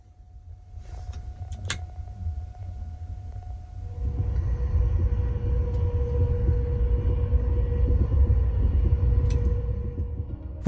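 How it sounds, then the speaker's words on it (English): Caledonian Sleeper train rolling along the West Coast main line, a steady low rumble that grows louder after a few seconds and holds, with faint clicks and a sustained tonal hum riding over the continuous rail noise. "We awake the next morning to the sound of our train rolling away down the West Coast main line."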